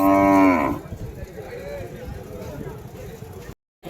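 A native cow, eight months pregnant, at the Vaniyambadi cattle market lets out one loud, close moo. It fades into a murmur of market noise and nearby talk.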